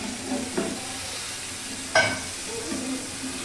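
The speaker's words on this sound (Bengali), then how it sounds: "এই যে ফুটে উঠলো, ফুটে উঠলেই এটা এবার বন্ধ করে দেব।" A bhetki fish bone curry cooking in a pan after a little water is added gives a continuous close bubbling sizzle, with one sharp utensil knock midway.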